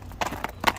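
A large horse walks with light steps, hooves clip-clopping in three soft, evenly spaced footfalls close by, with no voices.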